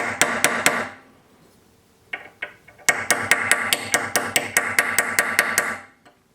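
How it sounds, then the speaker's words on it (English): Hammer striking a tool set on copper wire to inlay it into O1 steel: rapid, evenly spaced close metallic taps in two long bursts separated by a short pause with a few lighter knocks. "you would place it on top of the copper wire and just hammer it"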